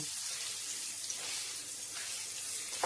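Boiled, pitted olives are stirred in hot oil in a pan, giving a steady quiet sizzle and hiss with faint scraping and a small clink at the end.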